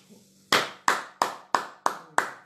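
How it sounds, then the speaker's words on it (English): Congregation at a live church service clapping in unison, six sharp, evenly spaced claps over a faint low hum, loud and close with no voices. "Clap for the Lord. Clap for yourself."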